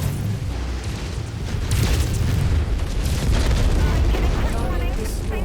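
Heavy weapon barrage in MechWarrior 5 rumbles with dense, continuous booms and blasts, loud and sustained throughout with mech combat noise layered over it.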